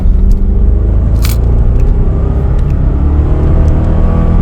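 A BMW Z4 M Coupe accelerates hard through the mid-range during an overtake, a loud, steady engine roar heard from inside the cabin, with low rumble and a few small rattles from loose coins in the ashtray.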